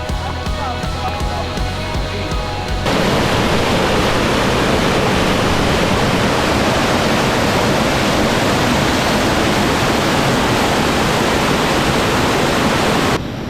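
The Amina river rushes loudly and steadily as broadband water noise, after a brief stretch of other sound at the start, continuing unbroken for over ten seconds.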